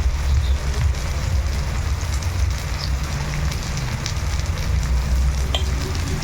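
Onion and urad dal bajji fritters frying in hot oil, giving a steady, close sizzling hiss and bubbling that runs without a break.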